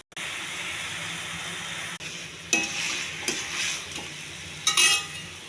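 Chicken and sliced onions fried with curry leaves in a pan give a continuous bright sizzle, broken after a brief gap by several sharp scraping stirs of a utensil against the pan.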